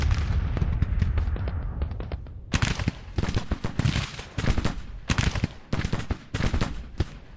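Massed musket volleys from Civil War brigades in the strategy game Grand Tactician during the Battle of Knoxville, a continuous crackle of overlapping shots with sharper, louder cracks, dense and close, without talk.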